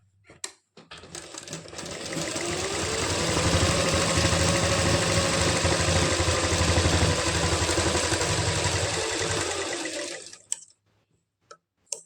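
A sewing machine runs through the stitching of a palazzo pant pocket, ramping up to a steady fast whirring hum for about ten seconds and then stopping, followed by a few sharp clicks, close and loud, no talking.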